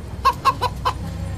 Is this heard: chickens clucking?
yes